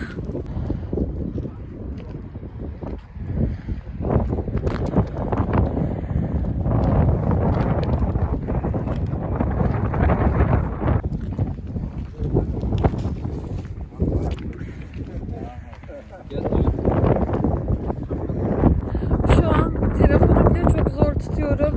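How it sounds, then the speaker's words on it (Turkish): Strong, cold wind blowing outdoors in Antalya, a continuous loud roar and buffeting across the microphone throughout, with gusts swelling and easing. "Çok esiyor burası."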